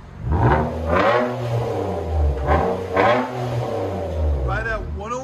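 A 2017 Nissan Maxima 3.5L V6 with a Vibrant resonator and muffler delete blips its throttle repeatedly up close. The loud, raspy exhaust surges and drops in quick succession over a rumbling idle.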